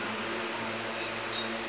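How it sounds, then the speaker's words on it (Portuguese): A strong overhead electric fan runs in a shop in central Recife, a steady, loud whooshing roar with a low hum that holds unchanged and close throughout, with no voices. "o ventilador é bem forte aqui em cima"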